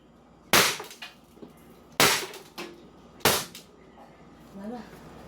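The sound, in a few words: Beretta airsoft pistol firing shots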